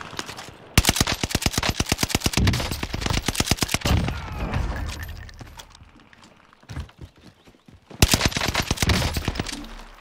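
Rapid bursts of automatic gunfire from an NZ-41 in Warzone, loud and close, with sharp repeated shots in fast rhythm, a quieter stretch of softer game sounds in the middle, then another hard burst at the end.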